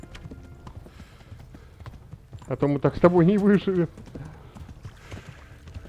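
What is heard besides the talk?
horse galloping in video game Kingdom Come: Deliverance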